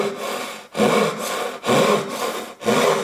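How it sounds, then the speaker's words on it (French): A Japanese pull saw cuts through wood in three steady, rhythmic rasping strokes, close and fairly loud, each stroke separated by a brief pause. "Et je scie en tirant."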